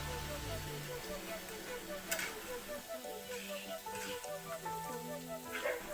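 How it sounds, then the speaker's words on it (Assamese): Small fish and taro pieces frying in hot oil for an Assamese sour curry, a steady sizzle and crackle with occasional stirring, close by, with faint low hum underneath. "সেইবাবে মই মাছকেইটাও সেই তেলতে দি দিলোঁ।"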